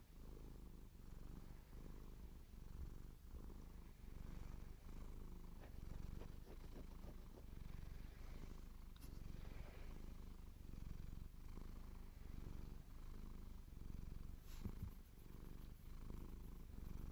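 A cat purrs steadily and very close throughout, a continuous low rumbling hum with faint scratching and rustling mixed in, quiet and intimate with no talking.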